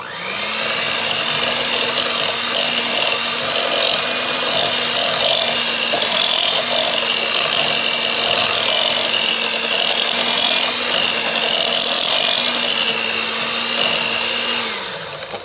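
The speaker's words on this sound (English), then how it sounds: "you just want to blend this until it is nice and smooth" A blender runs steadily at a low setting mixing cream cheese, a loud continuous whirring drone that holds for about fifteen seconds before winding down.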